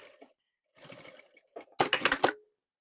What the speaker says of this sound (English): then you're going to machine the ends of the welt to the waistcoat